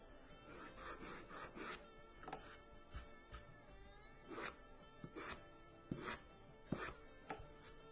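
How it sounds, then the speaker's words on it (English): Sanding the top of a leather briefcase gusset by hand, a series of close, soft scraping strokes in an uneven rhythm, some sharper and louder than others, with no talking. "So we're just sanding"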